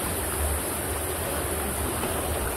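River current rushing steadily during a raft ride toward a waterfall, a loud, constant roar of churning water filling the scene without pause.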